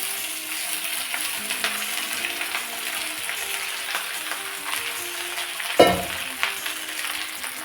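Spiced chili rice is stirred and fried in a pan over a low flame, giving a steady soft sizzle with scraping stir strokes and one louder clatter near the end.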